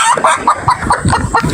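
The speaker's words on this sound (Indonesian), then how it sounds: "Gambarnya kucing, bunyinya ayam." Chicken clucking plays as a rhythmic run of about eight short, fairly loud clucks, close and clear with no talk over it.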